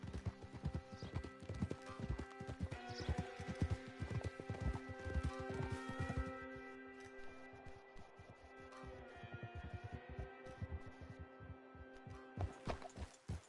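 Horse hooves from Red Dead Redemption 2 clip-clop in a steady galloping rhythm, close and loud throughout, with a faint in-game hum beneath and no talk.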